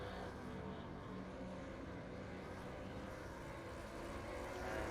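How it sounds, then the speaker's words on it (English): A Supercars race car at Sandown International Motorsport Raceway does a celebratory burnout, its engine roaring loud and steady with a dense, continuous rumble throughout. "And smoking that car up. Nice celebratory burnout."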